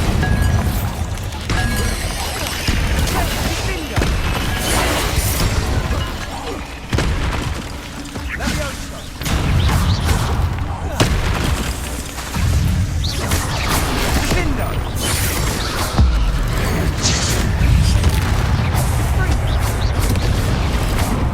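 Bombarda spell explosions and combat in the Hogwarts Legacy video game: loud, continuous booms, crashes and impacts layered with game music and voices throughout.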